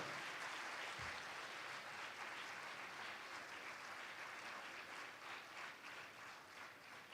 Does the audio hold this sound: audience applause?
yes